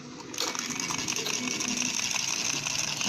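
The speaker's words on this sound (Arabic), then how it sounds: "وعندنا مكنة الخياطة اهي، شوفها بقى كده برضو بتاخد حجرين." A battery-powered toy sewing machine switches on and runs with a steady, high whirring buzz and faint rattling, continuous and close after a brief quiet start.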